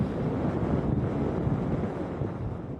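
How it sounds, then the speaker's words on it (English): Strong wind roars continuously across the microphone, a dense rumbling rush with no pauses or voices. "everyone's been told to stay away from it because it's so windy"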